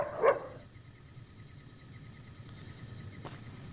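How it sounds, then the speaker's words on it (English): A German Shepherd companion in the Fallout: New Vegas video game gives one short bark at the start. A faint low hum of game ambience continues after it. "JT is a post-apocalyptic American form of German Shepherd"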